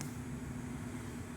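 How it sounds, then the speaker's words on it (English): A 1998 Chevrolet Silverado GMT400 AC blower motor fan runs on its first speed setting, giving a faint, steady whirring hum with a low tonal drone and no talking. "You can actually hear that fan right now."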